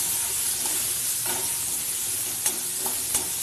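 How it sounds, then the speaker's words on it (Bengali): Sliced bitter gourd and eggplant frying in oil tempered with nigella seeds, a continuous close sizzle and hiss with a few light stirring clicks. "কালো জিরে ফোড়ন দিয়ে একবারে চাপিয়ে দিয়েছি উচ্ছে আর বেগুনকে, দিয়ে এবার ভাজা ভাজা করে নেবো"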